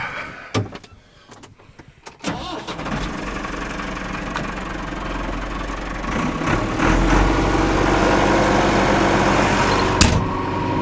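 A farm tractor idles while spreading slurry, a low steady engine rumble that builds and strengthens after a few seconds of quieter clunks and rattles, with a sharp knock near the end.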